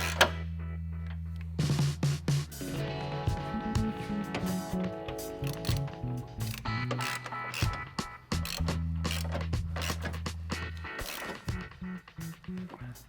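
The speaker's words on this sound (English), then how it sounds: "start with these body mount bolts. We're going to go ahead and tighten those up" A ratchet tightens body mount bolts while fitting rock sliders to a Jeep Gladiator, rapid clicking pawl bursts alternating with mechanical whirring, close and moderately loud, with no speech.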